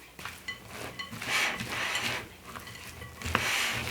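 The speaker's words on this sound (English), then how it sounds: "And just mix this all together." Cornbread batter with bacon, corn and Parmesan being mixed by spatula in a bowl, giving close, repeated wet scraping and soft clinking strokes in an uneven rhythm, with no voice over it.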